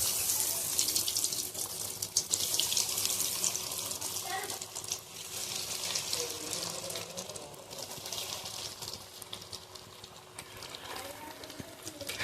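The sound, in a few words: vegetable chops frying in hot refined oil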